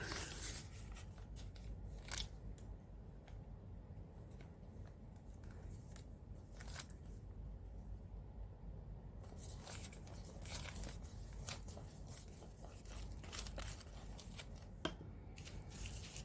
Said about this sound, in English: Just love tearing paper.